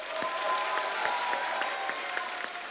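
A television comedy studio audience breaks into sustained applause, a dense, steady wash of clapping hands throughout, with no talking over it.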